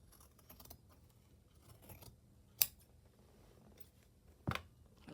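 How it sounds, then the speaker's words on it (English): Scissors trim the edge of a paper piece for a junk journal, making a few sharp, isolated snips with quiet paper rustling and handling between them, close and with no talking. "need to cut a little bit more off the edge"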